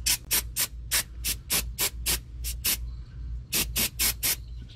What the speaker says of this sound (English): First, I'm gonna spray it down with a little silicone lubricant.